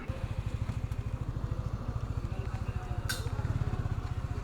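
A Yamaha R15 V3 motorcycle with a newly fitted chain and sprocket runs on a test ride, its exhaust giving a close, steady, rapid pulsing thump, with a brief sharp metallic clink partway through.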